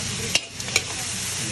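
Chop suey meat being stirred in a pan, with two sharp utensil scrapes over a steady background sizzle; no talking.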